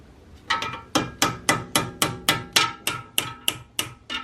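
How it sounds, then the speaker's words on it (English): Hammer blows strike a pair of pliers gripping a Subaru WRX tie rod during removal, about ten sharp metallic knocks in a steady rhythm, close and loud with no voices. "just grabbing it with some pliers and then hitting the pliers with the hammer"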